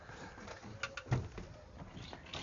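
Racing pigeons shuffle and coo faintly inside a loft, with soft flutters and scattered scratchy movement against a low, steady room background.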